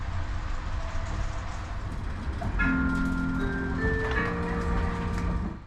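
Inside a new Hungarian MÁV premium class carriage running toward Budapest at up to 120 km/h, a steady rumble of rolling train noise fills the cabin, with tonal whines and hums rising over it partway through.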